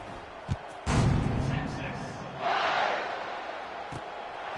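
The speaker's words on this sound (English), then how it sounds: "this crowd is buzzing after that last score" A stadium crowd at a Texas football game gives off a loud, broad roar that rises sharply after a thump, then swells again, with a commentator talking over it.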